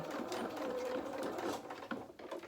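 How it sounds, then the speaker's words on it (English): A sewing machine runs steadily while stitching a dress seam at a one-centimetre allowance, a continuous close whir that slows and stops near the end, with no speech. "carry on at 1 centimetre seam allowance, nice and steady, and then stop before our next pin to take that out, and then at the end we're just going to reverse again."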